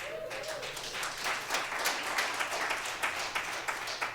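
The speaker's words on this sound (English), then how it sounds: "I didn't have to tell them to clap" Audience applause fills a lecture hall at a justice lecture series, dense steady clapping from many hands lasting several seconds without speech.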